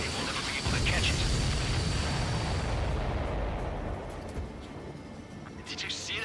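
Enemy supply ship blowing up in the flight combat game Ace Combat 7: a loud, broad rumbling blast that decays after a few seconds, followed by fainter crackling.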